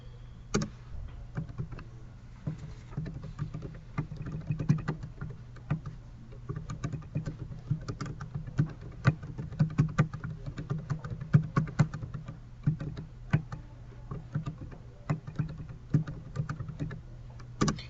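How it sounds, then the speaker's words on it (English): Data is typed on a computer keyboard in a steady stream of close, clicking keystrokes with irregular rhythm and brief pauses, over a low background hum, with no talk. "So the first thing I'm going to do is type in all of my data"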